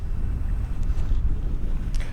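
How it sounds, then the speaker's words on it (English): Wind buffets the microphone in low, uneven gusts at a winter camp on a gravel bar in Alaska, a steady rumbling roar with occasional faint higher noises and no talking. "it's windy right now"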